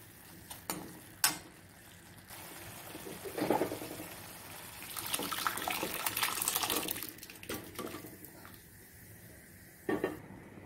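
Cooked arhar dal is poured into a pan of fried masala, giving a wet splashing pour with soft clinks of utensils, close and moderately loud, swelling in the middle and then tapering off with no talk.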